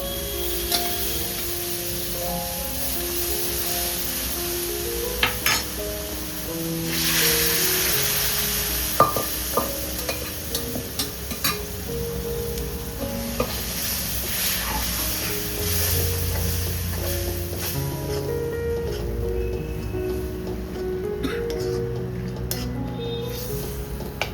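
Cooked chickpea greens from a pressure cooker are stirred into a frying onion masala, giving a steady sizzle with scattered spoon clinks and scrapes over about twenty-four seconds. No one speaks.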